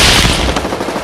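Heavy automatic gunfire aimed at a car, a loud continuous burst of rapid shots at close range with no talk over it.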